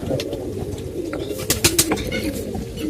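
Young tournament-breed pigeons coo steadily nearby in a low, rolling murmur, with a few sharper bird calls rising briefly in the middle.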